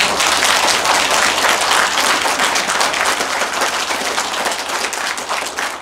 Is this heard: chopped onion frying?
no